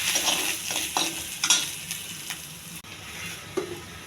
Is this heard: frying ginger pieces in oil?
yes